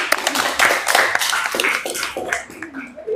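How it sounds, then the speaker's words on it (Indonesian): A classroom of students clapping for a group's answer in a religion lesson, a brief burst of hand claps close by, uneven and fading after a few seconds. "Tepuk tangan dulu dong."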